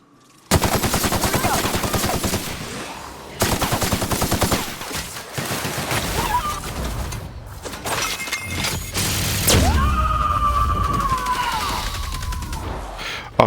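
Dense, loud gunfire from The Outer Worlds video game, rapid automatic bursts crackling almost without pause, with shattering impacts and a rising electronic whine near the end.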